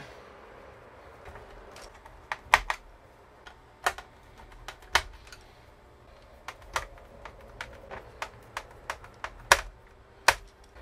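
Screws are being fastened into a Pioneer DDJ-SB DJ controller during a repair, sharp irregular clicks and ticks of a screwdriver at close range with quiet gaps between.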